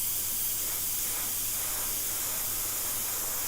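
An airbrush sprays paint in a continuous, even hiss at close range, with no voices over it.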